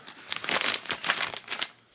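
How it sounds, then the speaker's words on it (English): A plastic bag crinkles up close as doll heads are put into it, a dense run of rustles and crackles. "I'm going to put these dolls' heads in a plastic bag."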